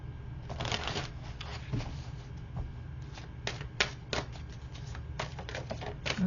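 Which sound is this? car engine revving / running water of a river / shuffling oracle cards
shuffling oracle cards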